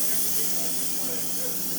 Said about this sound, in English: Might just spray it down real quick.